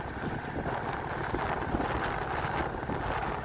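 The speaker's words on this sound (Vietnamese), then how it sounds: "Lần đầu tiên đi cái chiếc vỏ lãi như thế này mà bị chạy nhanh, so gió nó mạnh đó, với lại sóng thầy ướt hết à" A small Vietnamese vỏ lãi longtail boat races fast over choppy waves in strong wind, a continuous roar of wind buffeting and engine and water rushing, close and steady without talk.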